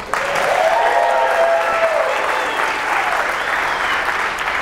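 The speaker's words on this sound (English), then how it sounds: "then just clap it up real quick." An audience at a ShutterFest Extreme photography seminar on personal branding claps steadily and loudly for several seconds, a dense, continuous patter with a few voices rising faintly through it.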